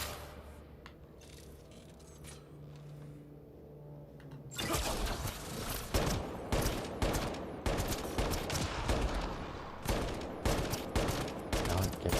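Turret gunfire in the video game Mass Effect Andromeda starts abruptly after a quiet stretch, a loud, sustained stream of rapid shots continuing in steady bursts to the end.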